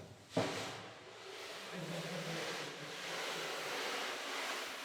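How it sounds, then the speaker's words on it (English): An ocean drum is tilted after a sharp initial tap, its loose beads rolling across the drumhead in a steady surf-like wash that swells and lingers for several seconds. "Ocean drum. We have one."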